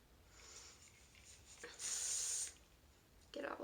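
A can of Brush Thru Spray hissing onto hair during a faux blowout, one steady burst of under a second, with a quieter spray near the end; no talk over it.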